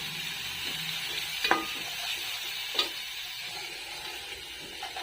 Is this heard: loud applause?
no